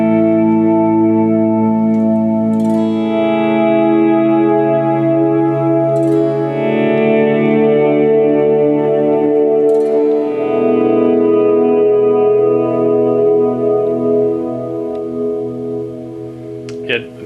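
Sustained guitar chords ring out through a Strymon Blue Sky reverb pedal with shimmer off, a lush echoing reverb without high sparkle, notes blending and trailing into long washes, fairly loud and without talking.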